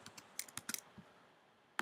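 Keys clatter on a computer keyboard while a command is entered in a terminal, a quick burst of irregular clicks followed by a pause and one last sharp keystroke, close and fairly quiet.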